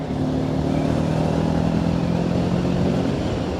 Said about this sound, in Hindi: 4th गियर पे है, ये मैंने 5th गियर लगाया, देखो कितनी सीरियस तरीके से लग गया। ये 6th गियर लगाया